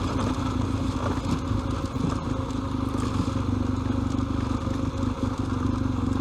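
Adventure motorcycle riding a dirt road on a scenic mountain detour, a loud, steady engine drone with rattling and crackle from the rough surface throughout.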